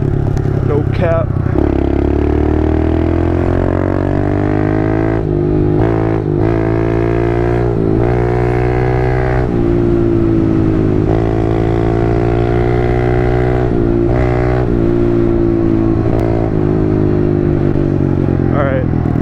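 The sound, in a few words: pit bike riding in the Hollywood Hills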